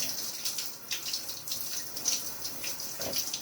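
Water runs steadily from a tap over a hand-tied cap wig during washing, making a continuous close hiss and splash with small shifts in flow and no talking.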